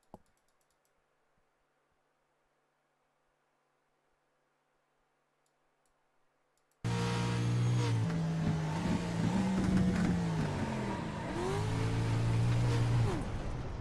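Race car engine during a racing video game replay at Summit Point, starting after several seconds of near silence, then a steady loud drone with pitch rising and dipping as the car coasts and revs.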